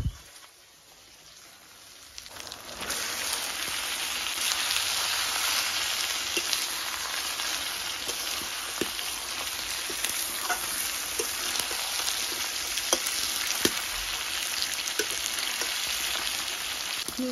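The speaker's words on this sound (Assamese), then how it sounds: "এতিয়া মই ভালদৰে ভাজি ল'ম মানে মাংসখিনি সিজিবলৈ দিম" Local chicken meat with onion, turmeric and salt frying in a pan, a dense, steady sizzle that starts quietly and swells loud after a couple of seconds, with occasional stirring clicks and no talking.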